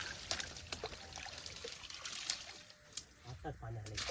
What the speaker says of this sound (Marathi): आताच पाणी आलं.